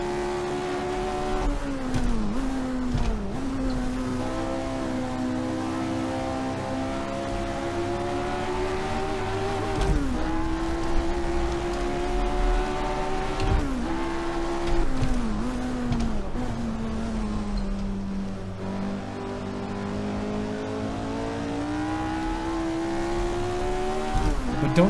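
1967 Grand Prix race cars lapping Silverstone in the Assetto Corsa racing game, a continuous loud engine howl that rises and falls through gear changes with other cars droning nearby, and no talk.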